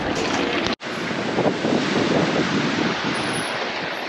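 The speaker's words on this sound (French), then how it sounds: "Il y a du vent aujourd'hui." Strong wind buffets the microphone in a continuous rumbling roar by a bus station, broken by one brief cut near the start.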